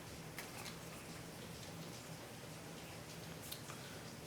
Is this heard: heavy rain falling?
yes